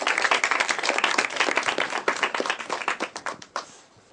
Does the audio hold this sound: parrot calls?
no